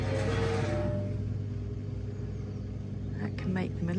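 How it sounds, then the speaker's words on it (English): Machinery preparing garden ground for concrete rumbles steadily in the background, engine-like and continuous, with a brief squeaking burst near the end. "that's Peter and his guys carrying on with preparing all the ground in the Hoitze Jubber's garden for the next stage of the concrete."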